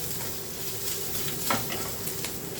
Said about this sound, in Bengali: সেই জন্য আমি পেঁয়াজটা ভাজার পরে রসুনটা দিলাম